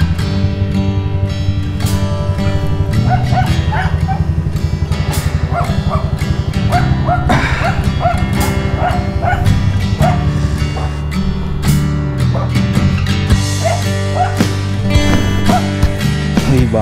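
A dog barks and yips repeatedly over loud background music, the barks coming in short bursts throughout.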